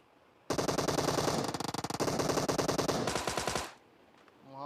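Loud automatic gunfire in the PUBG Mobile game on the Erangel map, a dense sustained burst of rapid shots that shifts in tone partway through, then cuts off into near silence before another sound rises.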